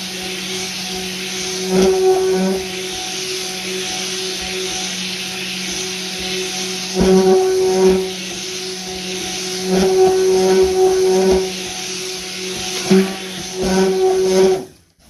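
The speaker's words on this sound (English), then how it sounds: "My trusty old stick blender out and give it a blend up." A stick blender whirs through a goat's milk soap mixture, its motor running steadily with several louder surges as it is pulsed and pushed through the batch, close and fairly loud with no talking.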